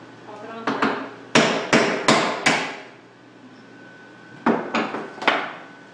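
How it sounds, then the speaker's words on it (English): Hammer strikes on a Swanstrom disc cutter punch a copper washer: a quick burst of several sharp metallic blows with ringing decay, a pause, then three more close, clear hits. "then I'm going to use my disc cutter again and pop it on there"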